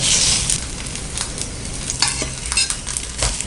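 An egg Mughlai paratha fries in oil in a pan, giving a loud, steady sizzle with crackling bursts and occasional scraping as it cooks, with no voices.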